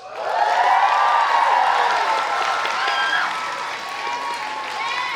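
A large crowd bursts into loud, sustained applause and cheering in a church session, with whoops rising over steady clapping that slowly eases off.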